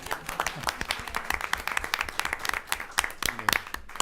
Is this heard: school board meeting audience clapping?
yes